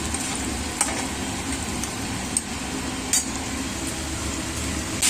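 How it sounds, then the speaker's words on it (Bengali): Onion and garlic fry until reddish in a pan, a loud, steady sizzle broken by a few sharp clinks of a utensil against the pan. "পেঁয়াজ রসুনটাকে ভালো করে লাল লাল করে ভেজে নিলাম"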